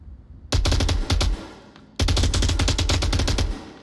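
Automatic gunfire from a match of the VR shooter Onward, two loud sustained bursts of rapid shots close by, separated by a brief lull, with no talking.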